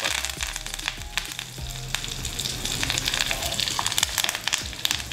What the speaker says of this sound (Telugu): ఇందులో పోపులో వేసుకుందాం